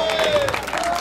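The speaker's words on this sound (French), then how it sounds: "On applaudit ça" A crowd claps and cheers at an outdoor chainsaw competition in Saint-Célestin, 2017, giving a steady, fairly loud burst of applause that fills the whole short moment.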